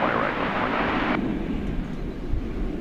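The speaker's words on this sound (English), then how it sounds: "Airbus A319 for American Airlines there" An American Airlines Airbus A319 airliner at DFW Airport gives off a broad, steady jet roar heard from a moderate distance, with a higher whine that cuts out partway through.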